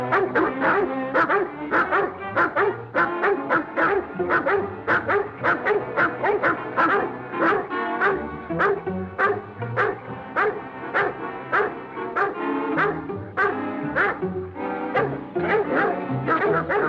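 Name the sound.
dogs barking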